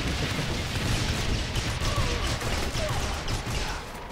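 Grenade launcher fire in Saints Row: The Third Remastered, a dense wash of blasts and crashing impacts layered over steady game noise, loud and continuous throughout.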